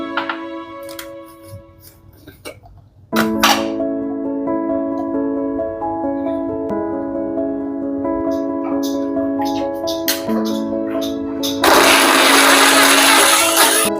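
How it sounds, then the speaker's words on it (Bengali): An electric grinder whirs loudly through apples and dates blended into a paste, starting abruptly near the end over steady background music. "এবার আমি আপেল আর খেজুর এই দুটোকে একসাথে মিলিয়ে গ্রাইন্ড করে একটা পেস্ট বানিয়ে"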